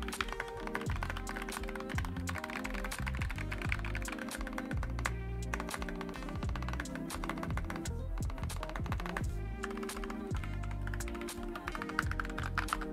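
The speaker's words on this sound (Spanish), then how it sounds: "Es un teclado gaming al final del día, ¿vale? Está pensado para jugar y que sea efectivo en ese aspecto" Fast, steady typing on a gaming keyboard with floating switches and an aluminium plate, the keystrokes running continuously for the whole stretch beneath tonal background music.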